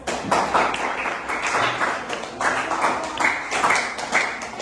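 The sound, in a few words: class applause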